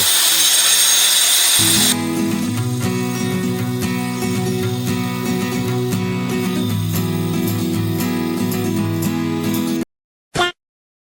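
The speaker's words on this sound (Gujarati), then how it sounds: "અમારે બનેવી જો ગ્લાઇન્ડર મશીન ચલાવે" A grinder machine runs with a steady, loud mechanical whine for about ten seconds during work on a staircase, then cuts off, followed by one short burst.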